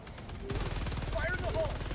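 A Gatling sentry in Helldivers 2 opens up about half a second in with rapid, steady automatic fire that holds to the end, loud and close. Brief tonal game effects sound over the gunfire.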